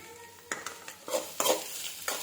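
Roasted chana dal, peanuts and garlic stirred and frying in a pan, with a soft sizzle and a handful of scraping stir strokes close by, no talk.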